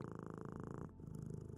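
A cat purrs in a Minecraft roleplay scene, a steady low rumbling purr that runs continuously and close up with no talking over it.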